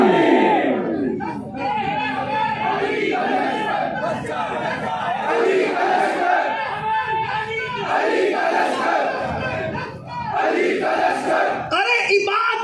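A large crowd at a religious sermon shouts slogans back in unison, a loud roaring chant of many voices that surges in repeated waves for over ten seconds, with a brief dip near the end.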